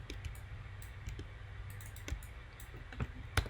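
Sharp mouse clicks from a shift double-click selecting an edge loop in Maya, a few quiet, scattered taps over a low room hum, with a more distinct pair of clicks near the end.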